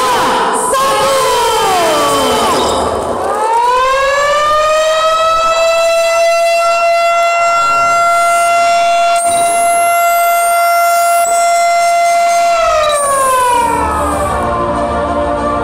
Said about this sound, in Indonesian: penekanan sirine dilaksanakan oleh Gubernur Jambi bersama-sama dengan Ketum Gapki